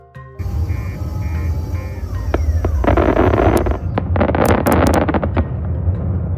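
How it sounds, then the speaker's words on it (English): Demolition implosion of the Tropicana Las Vegas Hotel and Casino: a sudden onset of booming, crackling charges, sharp cracks and rumbling roar building over several seconds, heard from a distance with sustained low thunder beneath the bursts. "the historic Tropicana Las Vegas Hotel and Casino imploded."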